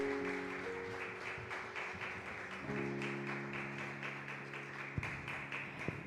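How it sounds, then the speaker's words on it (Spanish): A church congregation claps together in a steady rhythm while sustained organ or keyboard chords ring underneath, the claps soft and spread across the room. "Denle un aplauso al Rey."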